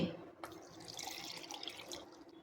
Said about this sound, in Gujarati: તો એક બાઉલ પાણી આપણે અહીંયા સોજીની અંદર ઉમેરી લીધું છે।